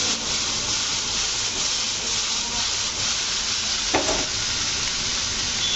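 Dried red chillies roast in a hot pan with a steady, close sizzling hiss throughout. A single brief scrape sounds near the end.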